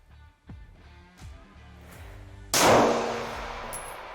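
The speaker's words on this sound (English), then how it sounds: "So I'm going to shoot the 38." A single loud, close gunshot from a .38 revolver at an indoor gun shop range, a sharp blast with a trailing ring, preceded by soft metallic clicks and handling clatter.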